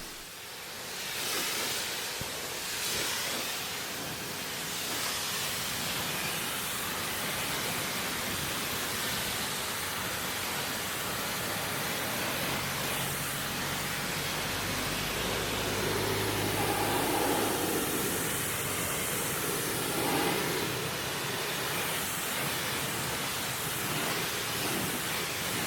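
Water spray rinses all-purpose cleaner off a car's panels in direct sunlight, a steady, close hiss of broadband rushing water that runs for the whole stretch, with a deeper gush partway through.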